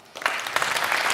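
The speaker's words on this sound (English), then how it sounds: "A warm applause." Applause rises from an audience at a TEDx Salong KTH event, starting abruptly and swelling into steady, dense clapping that fills the short moment.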